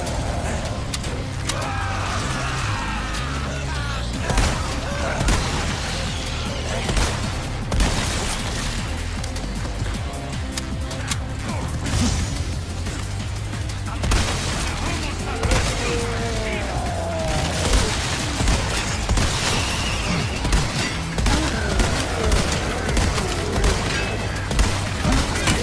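Gunfire rattles almost without pause through a Resident Evil 4 Mercenaries round on PS5, with rapid shots, booms and crashes layered over a loud, busy game mix and music. A voice talks over it now and then.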